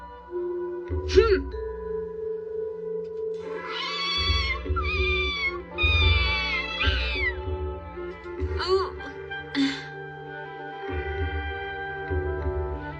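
A kitten in an old Doraemon cartoon episode gives several plaintive meows, loud and close, scattered between lines of dialogue.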